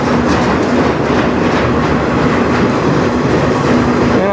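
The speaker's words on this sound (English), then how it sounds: "Train will get really slower now." A CN mixed freight train hauled by ET44AC and SD75I locomotives rolls slowly past close by, with steady clickety-clack of wheels over rail joints, a faint squealing tone and loud continuous rumble, no talk.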